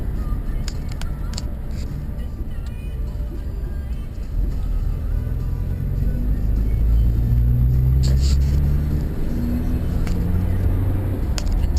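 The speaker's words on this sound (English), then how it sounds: "Now we're heading up towards Springbok and on to Port Nolloth with Jilly driving." Car driving on a road in South Africa toward Springbok and Port Nolloth: a steady, loud low rumble of engine and road noise from inside the vehicle, continuous throughout with faint higher hiss.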